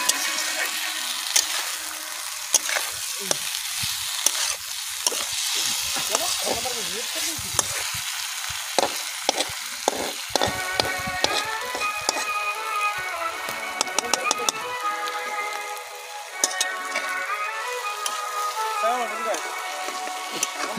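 Meat sizzles and frying in oil at a rural outdoor picnic cookout, with steady crackle and repeated stirring scrapes through the pan, sounding close; people talk at times over the cooking.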